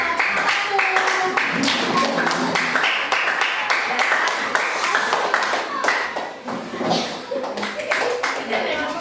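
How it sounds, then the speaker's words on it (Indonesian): Elementary school classroom applause for a student group, many small hands clapping in a sustained, uneven patter with children's voices underneath, thinning out slightly near the end. "tepuk tangan untuk kelompok dua"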